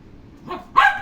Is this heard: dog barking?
yes